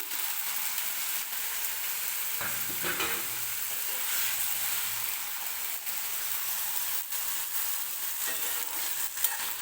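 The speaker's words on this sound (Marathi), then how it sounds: "तेलामध्येच आपल्याला मिरची आणि बटाटा जो आहे तो व्यवस्थित फ्राय करून घ्यायचा आहे" Potato and green chilies frying in oil for sabudana khichdi give off a steady close sizzle throughout, with a few soft scraping stirs partway through.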